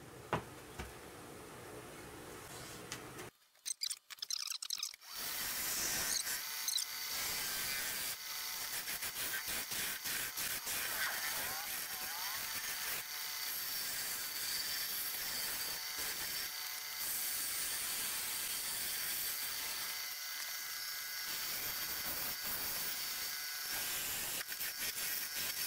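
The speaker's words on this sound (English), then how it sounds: "And I'm going to use my bowl gouge for that." A bowl gouge cuts a wooden vase spinning on a lathe, a steady loud hissing scrape that runs almost continuously after a short pause near the start, with brief breaks as the tool lifts.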